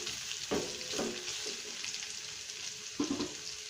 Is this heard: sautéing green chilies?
yes